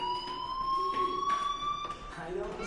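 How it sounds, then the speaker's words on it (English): A fire alarm rings in the Life is Strange video game, a steady high electronic tone holding throughout with slight pitch wavering, loud and continuous beneath brief background noise. "do you hear that fire alarm?"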